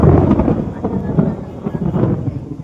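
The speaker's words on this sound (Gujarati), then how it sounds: "બહુ વીજળીનો વરસાદ થવા માંડ્યો" Steady heavy rain with lightning roars close by at an old fort in Surat, with low rumbling that swells and fades like thunder, continuous throughout with no voices.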